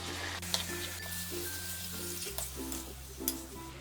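Marinated chicken pieces for a restaurant-style chicken karahi sizzle quietly in a pan, a soft, steady hiss broken by a few light stirring scrapes.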